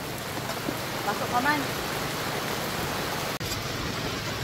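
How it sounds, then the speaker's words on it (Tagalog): Heavy tropical rain pours down outdoors during a mud clam cookout near the shore, a steady dense hiss filling the whole clip while a voice talks briefly over it. "pinabutan na kami ng malakas na ulan dito sa"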